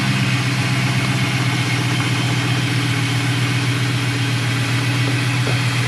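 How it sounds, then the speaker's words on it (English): A Ford Crown Victoria V8 idles on seven cylinders with a misfire, giving a steady, loud, close engine rumble with a faint uneven lope, running alone with no talk. "This motor is running on 7 cylinders, and I'm getting ready to show you that"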